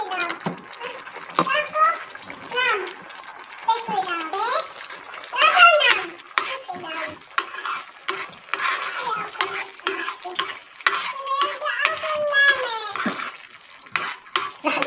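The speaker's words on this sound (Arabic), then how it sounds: "راح ضل هيك عم حركهم شوي" A spoon stirs pizza pie filling as it fries in a pan, giving scraping and light sizzling, heard mostly beneath steady talk.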